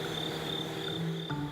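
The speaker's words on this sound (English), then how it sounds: "surrender to daylight lets Christina Hunter run while the crickets roar" Crickets chirp at dawn in a steady, high-pitched trill that carries on without pause, with faint lower insect or frog calls underneath and no voices.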